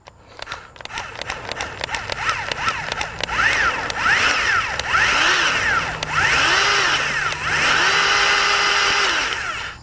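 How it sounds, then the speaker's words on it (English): A Ryobi P3410 18V cordless grease gun runs loud and close, its motor whining up and down in repeated pulses and sweeps after a few sharp clicks. "I think the P3410 from Ryobi is a great little grease gun."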